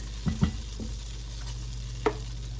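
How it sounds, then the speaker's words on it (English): Flour stirred into melted butter in a pot, a few soft scrapes of a spoon in quick succession, then a single scrape after a pause over a quiet low hum. "We're just going to slowly add flour, mix it up to absorb all this butter."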